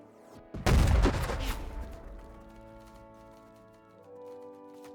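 A heavy artillery piece in the Battle Cry of Freedom game fires a shell on a percussion trigger, giving one loud, close boom that rolls into a long fading rumble over steady background music.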